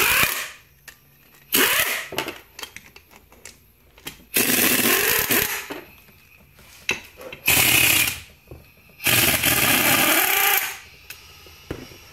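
Pneumatic impact gun on a medium extension with a 15 mm socket, spinning bolts off a T5 World Class transmission, firing in several loud hammering bursts of one to two seconds separated by quieter clinks and handling noise.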